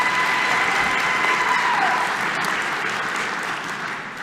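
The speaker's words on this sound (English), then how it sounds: "So big round of applause." At a Melbourne Polytechnic graduation ceremony, the hall fills with a big round of steady, dense applause from the crowd, gradually tapering over a few seconds.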